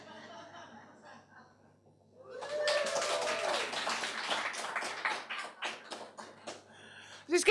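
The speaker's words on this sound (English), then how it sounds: "I want a round of applause, all right." Comedy-gig audience bursts into applause and scattered laughter, starting after a quiet stretch and sustained for several seconds of dense clapping before thinning out near the end.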